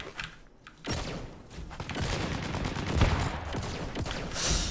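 Dense, sustained gunfire in the first-person shooter Leap, rapid overlapping shots and bursts packed tightly together, loud and close for several seconds.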